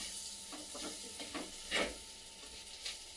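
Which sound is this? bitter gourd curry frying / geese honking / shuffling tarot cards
bitter gourd curry frying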